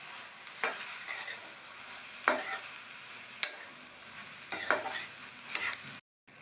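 Cabbage and chana dal masala curry, sprinkled with coriander leaves, stirred in a pan with the stove turned off: about five distinct scraping sweeps over a faint background sizzle, then a brief silence.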